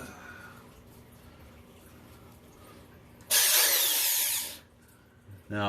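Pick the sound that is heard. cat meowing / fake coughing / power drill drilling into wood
power drill drilling into wood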